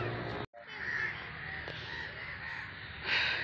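Crows cawing steadily and close while birds are being fed outdoors, a dense overlapping chorus of harsh calls with a brief dropout near the start and a louder burst toward the end.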